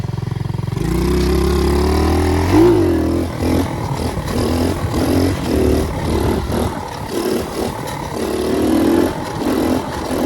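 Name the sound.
110cc pit bike engine revving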